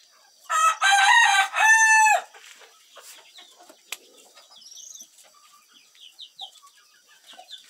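A rooster crows loudly and close in a backyard where chickens are raised, a single drawn-out crow of several rising notes, then scattered soft clucks and bird chirps around the yard.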